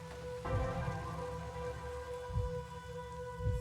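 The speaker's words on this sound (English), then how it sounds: "It's a gentle rain, protecting us." Gentle, steady rain in the video game Master Detective Archives Rain Code falls as a soft, quiet patter beneath sustained musical tones, with a few low rumbles.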